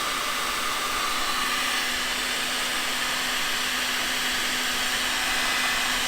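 A heat gun shrinks glue-lined heat shrink tubing during a dual battery install on a 200 Series vehicle, giving off a loud, even blowing roar with a steady low hum that runs without a break.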